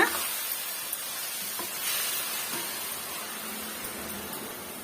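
Ground onion-tomato paste sautés in hot oil for an egg gravy. The steady, close hiss of the sizzle runs throughout with only slight swells and no talking.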